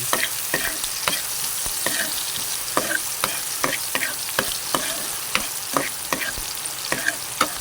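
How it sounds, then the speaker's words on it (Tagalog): Onions and garlic fry in oil in a pan for chicken adobo, a loud steady sizzle broken by regular scraping strokes of a spatula stirring them, close and with no talk. "hayaan na muna natin magkulay brown ng ating sibuyas at saka bawang guys. Yan, haluin natin."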